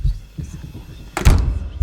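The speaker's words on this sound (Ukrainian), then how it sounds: "Дивіться, двері закрилися." A door closing in the horror video game Lucius, a single solid thunk after low rumbling ambience, close and fairly loud.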